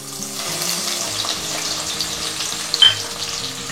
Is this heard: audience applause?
no